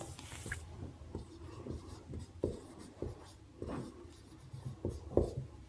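Someone writes out the area formula for a rectangle during a Hindi-medium math lesson. Close, quiet scratching strokes come in short bursts with small taps and pauses, and no voice is heard.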